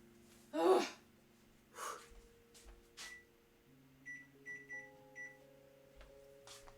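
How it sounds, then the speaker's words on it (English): A microwave oven's keypad is pressed to set the timer, a series of short high beeps coming in quick clusters, close and faint, mixed with breathy exhales and sniffs and a low steady hum. "I have to put the timer on for the chips"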